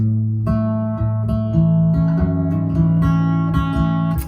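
An acoustic guitar strums a ringing G barre chord in a steady rhythm, several even strokes with sustained notes, close and clear.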